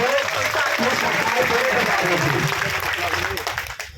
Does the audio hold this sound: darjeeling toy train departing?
no